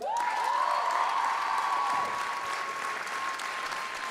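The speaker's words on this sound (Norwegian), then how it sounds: "En applaus for dem!" Audience applause at a student revue, dense sustained clapping from a full crowd, loud at first and then tapering slightly, with a bright feedback tone ringing through the sound system.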